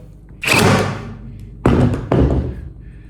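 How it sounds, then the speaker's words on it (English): A Yofidra brad nailer drives staples into thin wood: three loud, close, sharp thumps, each with a short burst of air, the last two coming quickly one after the other. "I'm going to fasten this thin piece onto here using a staple instead of a nail"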